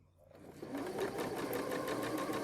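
A sewing machine stitches quilting fabric pieces placed right sides together, running as a steady, rapid, rhythmic chatter that starts after a brief quiet moment and continues close and moderately loud with no talking.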